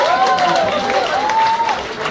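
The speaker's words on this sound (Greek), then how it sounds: "ένα χειροκρότημα για το Θέμη τον ηχολήφτη μας" At a live band show in a club, a crowd claps, with a whistled tone rising and falling over the steady patter, for about two seconds.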